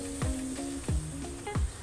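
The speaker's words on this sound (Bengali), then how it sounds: "এখন নেড়ে নিচ্ছি।" Spices with dried chilli powder being stirred in a frying pan over a steady sizzle, with three scraping strokes of a spoon about two-thirds of a second apart, close and alone.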